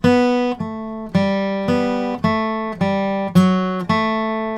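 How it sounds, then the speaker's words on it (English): Acoustic guitar strummed with a pick in an even rhythm, about eight bright chord strokes that ring out between hits, close and full, with no talking. "And that whole measure is going to sound like so"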